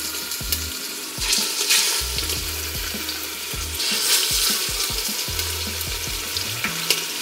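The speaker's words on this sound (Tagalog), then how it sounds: "Sinisir ko muna tong beef para makuha natin yung Maillard reaction. Hanggang sa mag-brown lang yung beef." Beef chop sears in a hot pan, a dense steady sizzle and crackle with scattered pops and scraping stirs close by, continuous with no voices.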